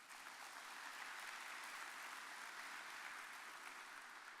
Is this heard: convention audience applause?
yes